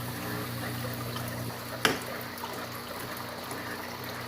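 Steady rush of water running while a 55 gallon aquarium is refilled during a water change, a constant hiss throughout with one brief knock partway through, no talk.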